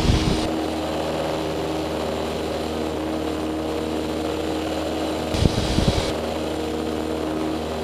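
A small training airplane's propeller engine drones steadily while it climbs, with brief rougher bursts near the start and midway.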